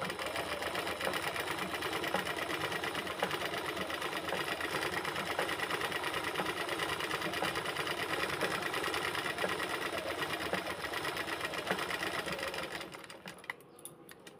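A sewing machine runs continuously, attaching a fall border to a sari, its fast, even rattling hum steady and close for most of the time before stopping near the end.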